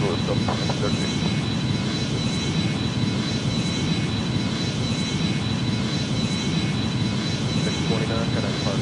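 Airbus A310 jet engines taxiing in the Airline Commander game, a steady, loud, unbroken roar that fills the whole stretch, with faint speech beneath it.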